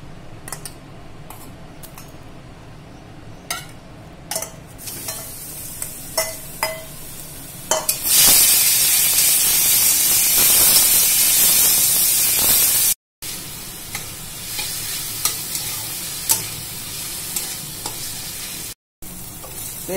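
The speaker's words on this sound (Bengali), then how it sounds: "আমার চিকেন এই যে ভাজা হয়ে গেছে" Chicken pieces fry in hot oil for a chicken roll, starting with scattered clicks and pops, then a loud steady sizzle that swells and continues with brief breaks, no talking.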